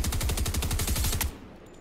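Rapid automatic gunfire in the Fortnite video game, a loud, close, steady burst of roughly a dozen evenly spaced shots that cuts off abruptly into near quiet.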